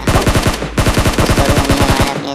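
SCAR-L assault rifle fire in PUBG Mobile: loud, close rapid bursts of shots in a fast steady rhythm, with a brief pause before the firing resumes.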